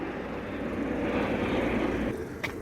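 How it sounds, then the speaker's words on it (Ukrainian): Helicopters flying over a wooded arboretum in Kyiv give a steady, broad engine drone that holds throughout, with no voices. "Розліталися незрозумілі вертольотики."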